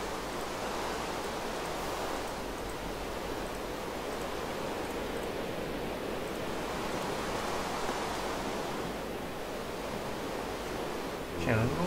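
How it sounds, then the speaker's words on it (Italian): Steady broadband rushing wash of a ship ambience in the game Minecraft, like surf or wind, sustained evenly and fairly soft for the whole stretch with a brief bump at the end. "C'è un rumore di nave."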